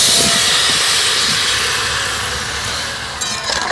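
Marinated mango pieces with sugar hit a preheated wok for pickle making, giving a loud, close sizzling hiss that starts at full strength and slowly eases, with a few clatters toward the end.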